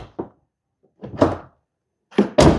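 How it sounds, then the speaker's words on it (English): A Tesla Model Y car door opening, heard as a soft click and then a couple of close, dull thunks and latch clacks, with quiet gaps between them. "Open up your door."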